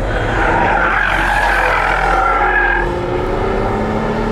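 A Mercedes CLS 53 AMG and E 53 Cabriolet lap a race track, a loud engine roaring and shifting pitch with tire noise as the car slides through a corner, fading slightly at the end.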